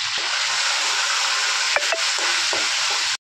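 Mustard seeds, cumin, curry leaves and dried chilli sizzle and crackle steadily in hot oil in a pan, loud and close, with a couple of brief stirring scrapes near the end.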